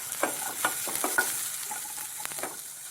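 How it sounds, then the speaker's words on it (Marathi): Onion frying in a little oil in a kadhai for shev bhaji, a continuous close sizzle broken by several scraping stirs of a spatula. "त्याच्यामध्ये आता कांदा घालून घेते। कांदा मी असं लालसर होईपर्यंत भाजून घेणार आहे।"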